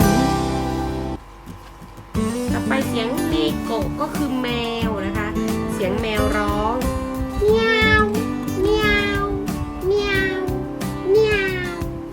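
A cat meows again and again, loud and close, a run of rising and falling cries after a brief quiet start.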